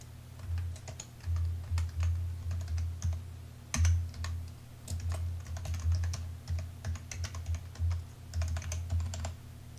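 Fingers tap out a login ID and password on a computer keyboard, a close, quiet run of irregular key clicks in short bursts with brief pauses and no voices.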